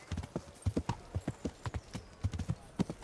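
Horse hooves clip-clop in Kingdom Come: Deliverance, a steady walking rhythm of close, distinct thuds repeating across the whole stretch with no talk over them.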